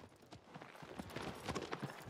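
A horse gallops in Shadow of the Colossus, its hooves striking in quick, steady clip-clop beats across open ground, fairly faint and unbroken, with no talking.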